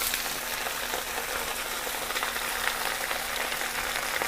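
Baby spinach with a splash of water sizzling in olive oil in a big pan, a steady close hiss and crackle with no voices.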